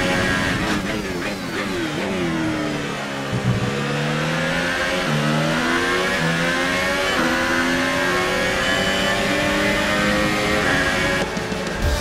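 An F1 race car engine in the F1 2018 game at the Canadian Grand Prix screams through the gears, high revs climbing and dropping in repeated shifts, loud and close, then settling near the end.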